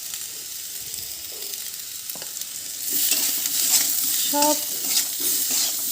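A turmeric-and-salt spiced mixture for an egg and elephant foot yam dish is stirred in a pan, quiet scraping at first, then a loud, continuous sizzle with spoon clinks; a voice briefly says a single word.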